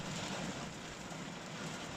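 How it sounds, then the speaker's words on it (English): Rain falling near Ballyronan Marina in spring, a steady soft hiss of drops with no voices over it. "There's the rain now."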